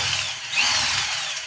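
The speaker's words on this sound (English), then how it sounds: "this is a little bit of a powerful drill for this" Power drill running steadily, used for grinding in a pencil-sharpener-style setup for making dust, a continuous close, loud motor whine with no talk.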